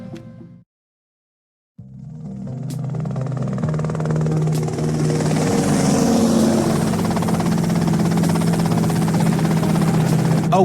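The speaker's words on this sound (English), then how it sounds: "that's them in the chopper" Helicopter in the video game GTA Vice City, a short silence followed by a rotor and engine drone that builds and holds steady and loud.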